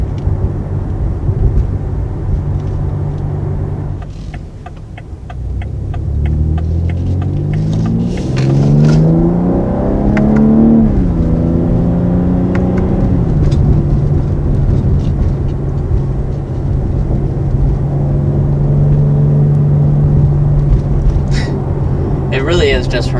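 A 2020 BMW X3 M crossover with a 500 hp engine drones at a steady low pitch, then revs hard, climbing in pitch through several gear changes, and settles back to a loud cruising hum.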